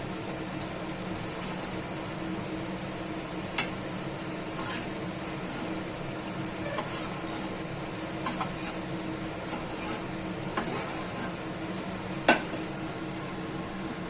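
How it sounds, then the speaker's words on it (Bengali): Dry red chilli, bay leaves, cumin seeds, cloves and cinnamon sizzling in hot oil left from browning chicken for chicken do pyaza, a steady low crackle with a few sharp pops, no talking. "এবার এই তেলটাতেই আমি একটা শুকনো লঙ্কা, দুটো তেজপাতা, একটু গোটা জিরে আর 3টে লবঙ্গ আর একটু দারচিনি এটা দিলাম।"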